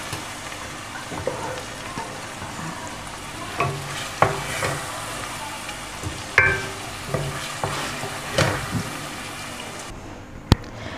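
Masala sizzling and frying in a small cooking pot while it is stirred for a mutton curry, with steady crackling hiss, scraping stir strokes and a few sharper clanks of the spoon against the pot, then a brief quieter moment near the end.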